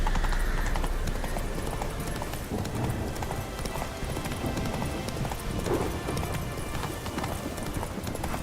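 Roach, a horse in The Witcher 3, gallops in quick, steady clip-clop hoofbeats that run throughout, close and fairly loud, with soft game sounds underneath.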